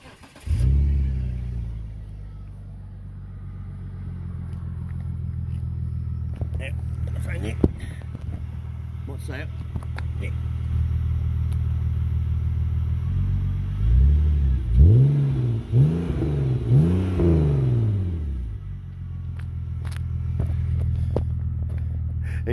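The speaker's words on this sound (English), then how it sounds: "we'll give it a bit of a start so you can hear it. Right, have a listen to this." A BMW car engine cranks and starts, then settles into a loud, steady idle. Several sharp revs rise and fall in the middle before it drops back to idle, with quiet talk now and then.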